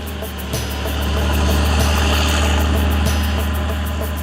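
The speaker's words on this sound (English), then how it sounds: "who should come chugging along but Terence the tractor" A heavy engine chugs steadily at a low, throbbing idle, loud and close, with a slight swell in the middle.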